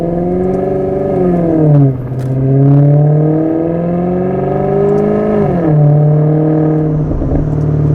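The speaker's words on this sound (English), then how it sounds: "as soon as that exhaust note comes on, you don't want to be listening to anybody." A 2015 Maserati GranTurismo's deep exhaust note rises and falls with revs, a loud, smooth tonal growl that swells in waves.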